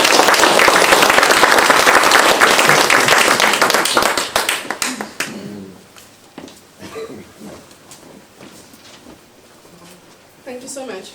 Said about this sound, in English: I invite you for a round of applause